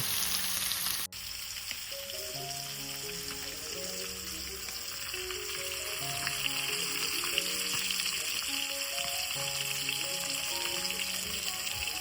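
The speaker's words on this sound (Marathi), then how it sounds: "हा बघा मांदेली कशी आपली मस्तपैकी खाण्याची फ्राय होते" Mandeli fish frying Konkan style in a pan of hot oil, a constant dense sizzle that holds steady and slightly swells, with melodic music running over it throughout.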